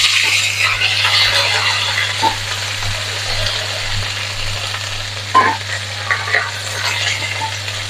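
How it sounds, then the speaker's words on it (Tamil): Mustard seeds and cumin spluttering in hot oil for a kovakkai fry, a steady dense sizzle with scattered small pops, close up, over a constant low hum. "கடுகு போட்டிருக்கேன் கடுகு பொறிஞ்சு வெடி கேட்க சீரகம் போட்டுக்கொள்கிறேன்"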